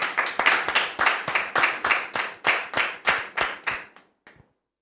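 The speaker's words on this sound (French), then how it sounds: "Sous vos applaudissements, s'il vous plaît." Scattered hands clap for Dame Lucienne as she is welcomed onto a TV studio set, a few bright, uneven claps close by that trail off to single stray claps.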